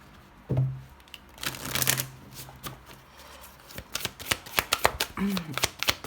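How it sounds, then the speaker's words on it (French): Tarot-style oracle cards being shuffled and a card drawn from the deck: rapid riffling, flicking and slapping of card stock in bursts, close and clear, with a person speaking briefly in French between the handling sounds. "On va prendre une carte supplémentaire avec ça."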